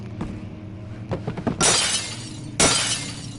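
Glass shatters twice in a PS4 video game, two loud bright crashes a second apart, with clinking fragments following each and faint background game sound beneath.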